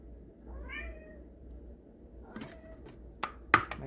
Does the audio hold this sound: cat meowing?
yes